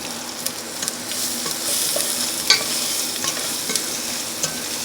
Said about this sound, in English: make sure you saute the onions until they're tender